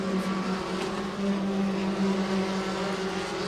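Formula 4 race cars lapping a circuit during a 13-lap championship race in Southeast Asia, a steady sustained engine drone heard from a distance with no clear individual pass-bys.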